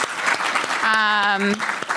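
Audience applause for the panel speakers as a session on schools, families and communities closes; a brief burst of clapping runs under a voice singing or humming a sustained tone in the middle.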